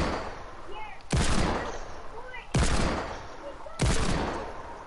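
Three sharp, loud shots from a game gun ring out about a second apart, each trailing into a noisy decay over steady background game sound.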